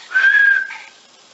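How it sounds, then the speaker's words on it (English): A baby blows a toy whistle, giving one short, fairly clear whistling tone that rises briefly and then fades. "Oh, she'll blow a whistle too."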